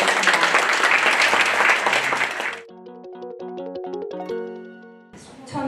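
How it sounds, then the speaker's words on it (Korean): Loud audience applause at an award ceremony for a women's baduk (Go) league, dense clapping for about two and a half seconds that then cuts off as tonal music plays, with a short burst of clapping returning at the end. "큰 박수 부탁드리겠습니다."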